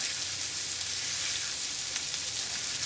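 Pork sausage and onions sizzle in a pan for breakfast sandwich smash burgers, a steady close-up crackling fry with no talking.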